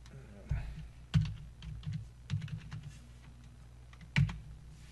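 A computer keyboard typing a Google search, with scattered clicks and a few heavier key thumps over a low hum, close and moderately loud, with faint talking in the background.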